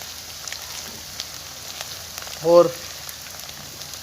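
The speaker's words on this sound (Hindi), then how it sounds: "आधा चम्मच अदरक डाल के थोड़ा सा फ्राई करेंगे" Half a spoon of ginger fries in a pan, a soft continuous sizzle and crackle close by, with one short spoken word breaking in briefly.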